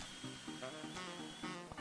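A power drill boring a 2.5-inch hole through a router table fence, heard as a short, close, high whining drone with slight pulsing changes in pitch as the bit cuts.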